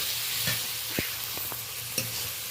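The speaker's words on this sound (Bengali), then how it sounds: "2-3 মিনিট ধরে নেড়ে নেড়ে পেঁয়াজ টমেটো সুন্দর করে কষিয়ে নেব" Onions and tomatoes fry in a pan with a steady sizzle while a spoon stirs and scrapes them, giving a few distinct knocks against the pan about every half second.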